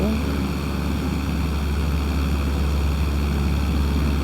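A light aircraft in MS Flight Simulator performs a touch-and-go on a wide runway, its propeller engine droning steadily and loudly throughout with no voices.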